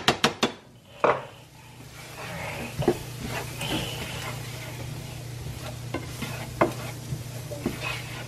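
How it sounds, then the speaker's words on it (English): Flour being stirred into a sizzling pan of cooking food: a wooden or metal utensil scrapes and clicks against the pan repeatedly over a low, steady sizzle, a few sharper knocks at the start, close up with no voices. "Stirring the flour."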